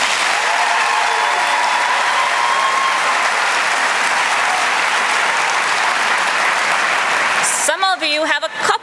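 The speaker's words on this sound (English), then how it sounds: "Please give a clap if you have a new principal this year." Dense, even applause rolls through a big hall as an audience of teachers at a district convocation claps for nearly eight seconds, then a voice begins speaking as the clapping dies down.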